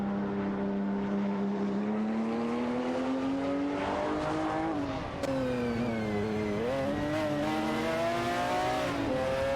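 Race cars roar past loudly and continuously, engines holding a high droning pitch that rises and dips as they shift and pass, with a brief sharp transient midway and no voices.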